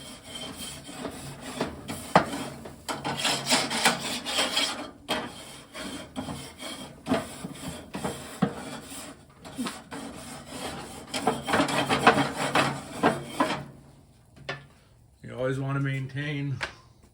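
A dirty cooking grill is scrubbed with a rough, rasping back-and-forth stroke that repeats in loud bursts with short pauses. A voice speaks briefly near the end.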